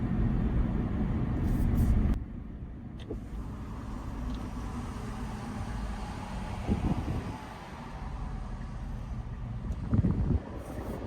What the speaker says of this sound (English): Hopefully there's not too much wind noise with the windows down.